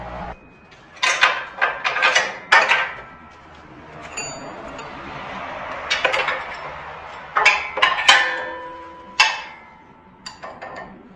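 Metal wrenches clink and clatter in short bright bursts while the oil drain plug is removed from a Cub Cadet ZT1 or ZT2 zero-turn mower, several close jangles separated by quieter gaps.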